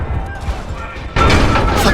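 A grenade goes off in Call of Duty: Modern Warfare (2019), a sudden loud blast that lands over a low rumble of battle noise and sustains into a broad crashing roar.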